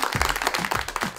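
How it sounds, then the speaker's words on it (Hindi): A studio audience claps for parents on a live Pakistani kids' TV game show. The burst is short and lively, with individual claps standing out above a crowd wash. "ऐसे सारे पेरेंट्स के लिए तालियां जो अपने बच्चों को अच्छा काम करने के लिए इनकरेज करते हैं"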